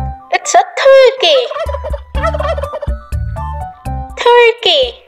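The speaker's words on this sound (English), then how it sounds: "It's a turkey." A turkey gobbles loudly in rapid warbling bursts at the start and end, with a voice speaking in between.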